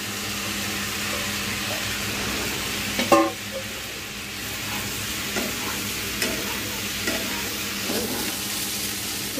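Cooked pasta in a pan gives off a steady low sizzle while being stirred, with soft scraping and clinks from time to time and one sharper knock near the start.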